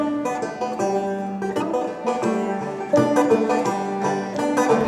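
Old-time string band tune from a group such as NOTSBA, with fiddle and other acoustic strings playing steadily together at full, even volume with no voices.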